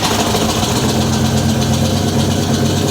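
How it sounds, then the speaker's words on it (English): A car engine running for the first time through a homemade budget exhaust, a loud, steady, rough idle with a constant low rumble and no talking. "So let's get a first startup of the exhaust."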